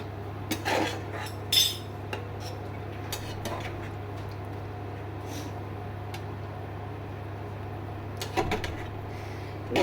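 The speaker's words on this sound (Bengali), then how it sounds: "জল দিয়ে ভালো করে আমি নেড়ে ছেড়ে নেব।" A spoon stirs a ridge gourd, potato and prawn curry in a pan after water is added: sparse metallic clinks and scrapes against the pan, separated by quiet stretches over a low steady hum.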